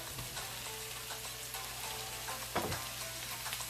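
Salted fish frying in a pan for ackee and saltfish, a steady close sizzle and crackle with one brief louder stir partway through, no voices.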